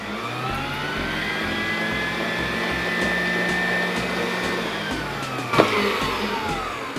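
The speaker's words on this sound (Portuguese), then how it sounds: "para poder levantar a batedeira, gente, senão a gente vai ficar com dificuldade de bater" An electric stand mixer beats nut-flavored cookie dough for sequilhos, giving a loud, steady motor whir that holds from start to finish with one brief clatter near the end and no talk.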